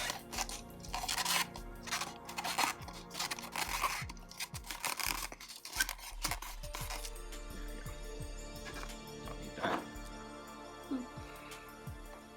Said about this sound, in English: I'm going to cut this cup down a little bit.